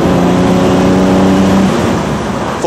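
A 1960s Mercedes 280SL engine drones loudly and steadily nearby, a coarse mechanical hum that shifts slightly in pitch near the end.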